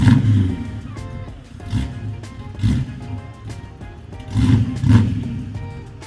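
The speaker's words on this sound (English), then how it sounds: "There it goes, the beautiful convertible top." Power convertible top on a Granada Gold 1967 Chevrolet Malibu (383 stroker, 4-speed) in motion, a low electric motor drone with recurring louder surges as the top folds, steady and close without talk.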